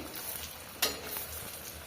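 Soft, steady sizzling of large flatbreads frying in oil, close by, with one brief louder crackle partway through; no talking.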